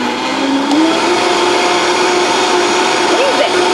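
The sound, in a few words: Vitamix blender running with soapy water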